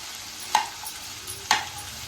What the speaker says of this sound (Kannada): ಎಲ್ಲ ಕಡೆಯೂ ಕೊತ್ತಂಬರಿ ಸೊಪ್ಪು ಹಾಕಿ ಮಿಕ್ಸ್ ಮಾಡೋಣ